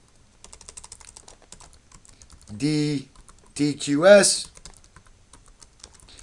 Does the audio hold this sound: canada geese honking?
no